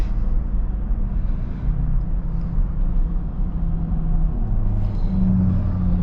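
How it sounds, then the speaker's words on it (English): A truck rumbles past on the road, heard from inside a Tesla Model S Plaid, a steady loud low drone with road roar that stays heavy throughout and shifts slightly as the vehicle goes by. "Wait till this truck passes by."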